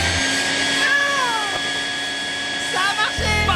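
Cartoon cat being scared away, with a couple of drawn-out meows and wailing yowls over a whooshing mechanical hum, with voices heard briefly.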